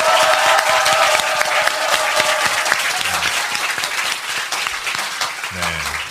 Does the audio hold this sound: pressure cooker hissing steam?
no